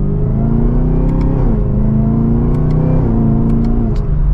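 A 2023 Chevrolet Camaro ZL1 Convertible engine revs and accelerates loudly, its pitch climbing through gear shifts in a steady, close rumbling drone.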